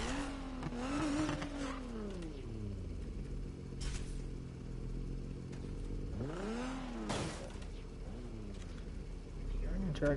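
A twin-turbo BMW in Need for Speed Heat revs and accelerates with rising and falling engine sweeps, moderately loud, as someone talks over it.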